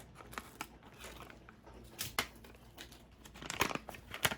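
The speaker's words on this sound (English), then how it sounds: "Now you're gonna cut your bleach open." Scissors snip and crinkle through a packet of hair bleach in close, quiet bursts, with several sharp cuts and rustles.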